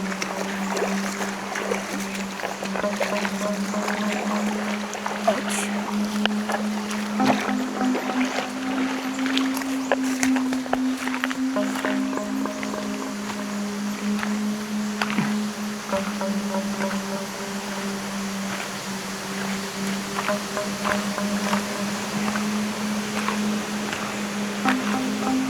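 A motorized boat crosses an underground river inside Malaog Cave, its engine droning steadily and close throughout, with the pitch stepping up and down a few times against echoing water ambience.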